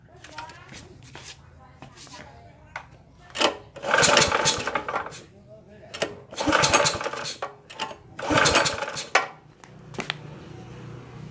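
A Honda GX160 small engine with a suspected leak at the spark plug is pulled over, giving bursts of rough, hissing, sputtering noise in three or four loud surges, with people talking in between.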